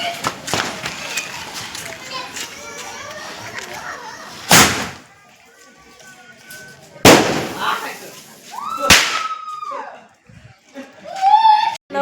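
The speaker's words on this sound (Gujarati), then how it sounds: "ફટાકડા ફોડા" Diwali firecrackers burst in several sharp, loud bangs spread over the scene, including sky shots, with people and children talking and shouting in between.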